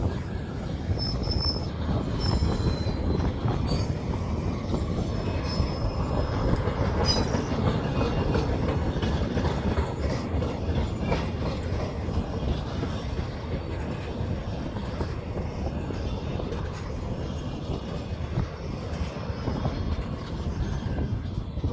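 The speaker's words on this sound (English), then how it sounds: "This was the longest Transnama train we've ever captured, with 41 cars and all 3 Class 33s pulling" A 41-car Transnamib freight train hauled by three Class 33 locomotives rolls steadily past near Swakopmund, Namibia, with a continuous rumble, clattering wheels and occasional faint wheel squeals, no voices.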